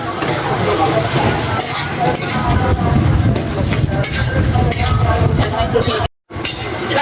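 Whole spices and bay leaves tempering in hot oil for Bengali lau chingri (bottle gourd with prawns), a steady close sizzle with stirring scrapes, while people talk over it throughout and a brief dropout comes near the end.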